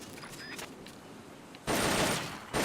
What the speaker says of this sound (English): is a standard assault rifle, capable of rapid fire.